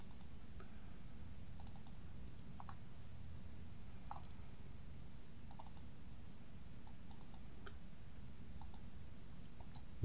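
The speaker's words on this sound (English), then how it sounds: "And I'm double clicking on them." Computer mouse clicked during 3D spline modeling work, faint sharp clicks scattered irregularly, several in quick double pairs, over a quiet low background hum with no talk.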